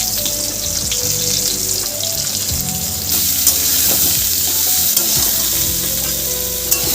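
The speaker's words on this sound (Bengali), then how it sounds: "এবার আমি পটলটা ভালো করে একটু ভেজে নেব।" Pointed gourd (potol) fries in hot oil, giving a loud, continuous sizzle that swells slightly midway, with occasional light knocks from stirring.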